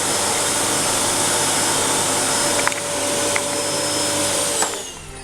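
A vacuum cleaner runs steadily for the whole stretch: a continuous close, loud whooshing drone with a thin whine on top. There is no speech, and only small bumps and shifts in the airflow.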